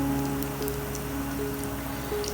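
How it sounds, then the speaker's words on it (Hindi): Potato roll samosas deep frying in hot oil over a medium flame give a steady, even crackling sizzle like light rain, continuous and close throughout. "डीप फ्राई हम इनको कर रहे हैं और फ्लेम हमने बहुत ज़्यादा तेज़ नहीं रखना, मीडियम साइज फ्लेम पे हम इनको बनाएंगे।"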